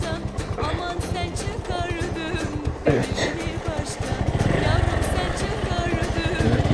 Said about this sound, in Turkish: Yine azıcık motorla ineceğiz herhalde.